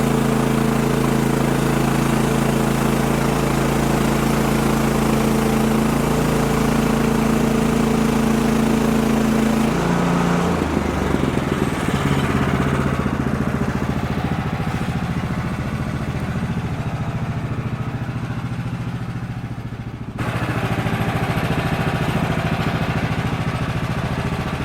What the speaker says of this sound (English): Let's start milling.